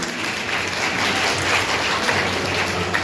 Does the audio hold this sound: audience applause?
yes